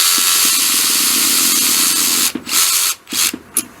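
A Makita DWR180Z 18V cordless ratchet runs steadily, spinning a nut with a continuous motor whir before stopping and giving a few short bursts near the end.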